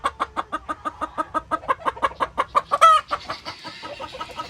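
A hen on a poultry farm clucks close by in a quick, regular run of about fifteen short clucks, then breaks into a louder rising squawk before trailing off into softer calls.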